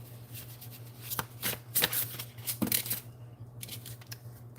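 A deck of tarot cards being shuffled by hand produces a series of crisp riffling bursts and soft slaps, close and fairly quiet, with no voice over them.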